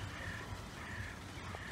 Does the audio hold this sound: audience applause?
no